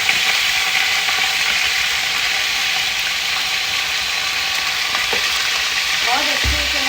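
Chicken pieces frying with ginger garlic paste in a pot give a loud, steady, dense sizzle throughout, with a few brief stirring scrapes near the end.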